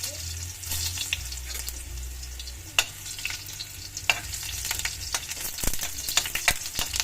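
Garlic frying in a hot wok for a simple Filipino sardine and misua dish, a steady moderate sizzle with scattered clicks and scrapes of stirring throughout.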